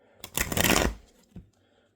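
A tarot deck riffle-shuffled in one quick burst of fluttering clicks, followed by a soft tap as the cards settle, close and fairly loud.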